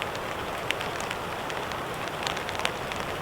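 Heavy rain falls at a lakeside campsite as it starts turning to wet snow, a dense, even patter with scattered louder drops striking nearby surfaces, close and continuous with no voices.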